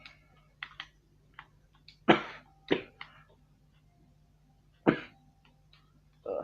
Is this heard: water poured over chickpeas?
no